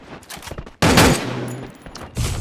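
Video game gunfire goes off as a sharp burst of rapid shots, followed by a few softer pops, loud and close with little else around it.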